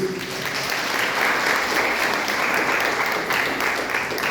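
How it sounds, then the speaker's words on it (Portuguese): A church congregation claps in praise of Jesus, sustained dense applause filling the room at full volume without pause. "Você pode dar uma salva de palmas para Jesus?"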